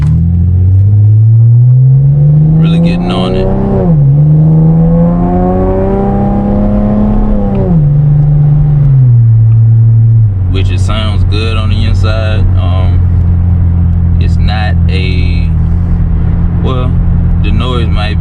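A Camaro V6 fitted with an MRT V1 exhaust revs loud and close, its pitch swelling and falling through long pulls, then settling into a rough idle broken by sharp blips of throttle.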